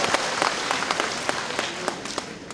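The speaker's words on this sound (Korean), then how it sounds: "박수로 채워주세요" Audience at a Democratic United Party leadership election joint rally in Gwangju and South Jeonnam applauds, a dense, steady wash of many hands clapping for a few seconds without speech.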